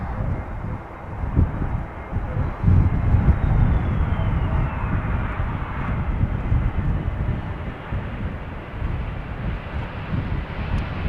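Airbus A321neo airliner at Amsterdam Schiphol Airport, a loud broad engine roar with a slowly sliding whine as it passes, heard outdoors with some wind on the microphone and no talk.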